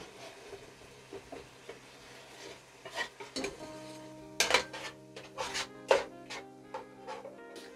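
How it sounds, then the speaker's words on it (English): Celery and onion stirred into ground beef cooking in a pan, with scraping utensil clatters against the pot, a few sharp clinks and a low sizzle, close and alone without talk. "We're gonna go ahead and add this celery and onion into it."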